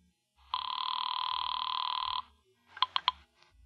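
Telephone ringing indoors at night, one long steady electronic ring followed by a short burst of three quick chirps, clear and close with no one speaking.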